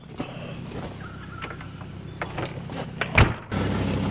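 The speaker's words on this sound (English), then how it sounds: "Close up the door." A door is closed while packing up on a camping trip in the Mudgee region: soft sliding and rattling movements, then a single firm thud near the end, followed by steady background noise.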